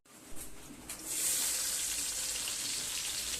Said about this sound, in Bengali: কাজু বাদামটা একটু লাল লাল করে ভেজে নিলে খেতে ভালো লাগে